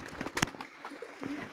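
Homing pigeons coo softly in a loft, a few brief low calls in the first half second followed by a quieter trailing coo, under faint room noise.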